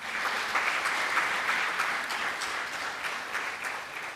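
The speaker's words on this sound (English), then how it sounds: "So 1 round of applause for yourselves." An audience at an MIT postgraduate orientation event breaks into steady applause, a dense wash of clapping from a large crowd that carries on evenly and then eases slightly toward the end.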